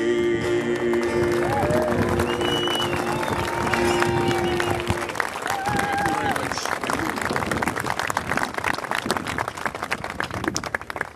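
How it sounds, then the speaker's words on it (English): Audience applause at a statue unveiling, dense sustained clapping from a large crowd with murmuring voices, steady and full throughout the stretch. "please give a big round of applause"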